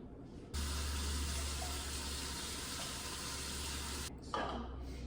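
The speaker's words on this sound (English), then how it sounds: "there's my 2 cups of water in my pot" Water pours steadily into a cooking pot for several seconds, two cups in a continuous rushing stream that stops abruptly, followed by a brief clatter.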